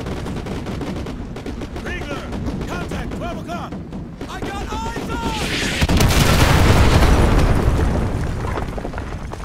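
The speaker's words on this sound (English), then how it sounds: "Fire mission received. Artillery inbound. Coordinates confirmed. Firing." Artillery strike in the Call of Duty: Modern Warfare 2 campaign: brief voices come first, then a loud, sustained, rumbling barrage of blasts rolls in and holds through the final seconds.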